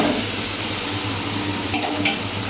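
Red spinach chorchori frying and being stirred in a pan, with a steady close sizzle throughout and a couple of brief utensil clinks near the end.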